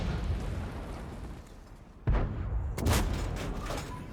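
World of Tanks cannon fire: two heavy booming shots land about a second apart, the second rolling into a longer rumble, over a constant dense roar of battle noise.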